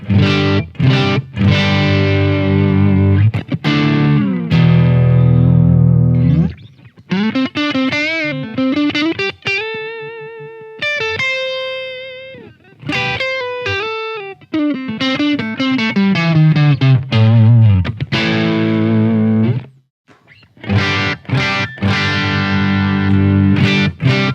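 A distorted electric guitar plays through an amplifier, alternating chunky chords with sustained melodic bends and held notes, loud and close.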